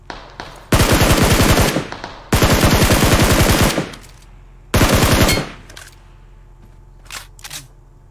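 Rapid automatic gunfire fired into the sky in a video game comes in three loud, close bursts, two long and one short, followed by a few faint, scattered shots.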